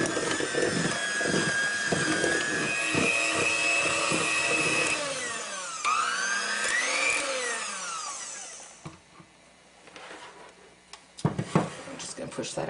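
An electric hand mixer beats thimble cookie dough in a bowl, starting slow and whining upward in pitch as the speed rises, then cutting off, followed by clatter and handling sounds near the end.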